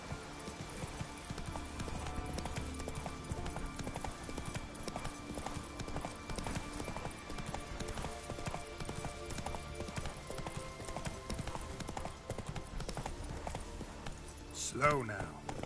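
Roach, the horse in The Witcher 3, gallops with a continuous, rhythmic patter of hooves over game music, ending with a short snort or neigh.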